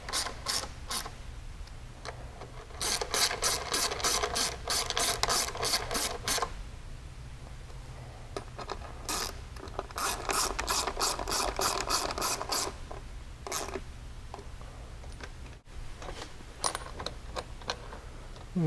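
Ratchet clicking in fast bursts with pauses between while bolts are tightened down on the floorboards of a 2019 Polaris Ranger 1000 Crew side-by-side, close and fairly loud, with no talking.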